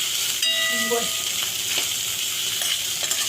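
Peanuts and chillies sauté in a hot pan, a steady close sizzle and fry with light stirring scrapes, alone without talk.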